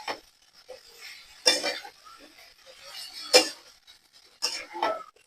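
A spoon stirs new potatoes, peas and radish in a cooking pot, giving a few scattered scraping clanks close up, separated by quiet gaps.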